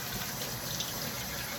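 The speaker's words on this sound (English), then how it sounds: "So go ahead and get my water running." Tap water running steadily into a sink to rinse parts of a Nama C2 juicer, a continuous close, moderately loud gush with no voices.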